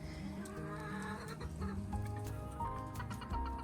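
Chickens cluck steadily from a backyard food forest, the birds gathered between two coops; several hens overlap in a continuous, moderately close chatter with no talk.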